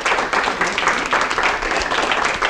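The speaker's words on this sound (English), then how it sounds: "give them a round of applause" A crowd claps for staff members standing up at a recognition night, a dense patter of many hands at fairly close range, strong and steady throughout with slight swells.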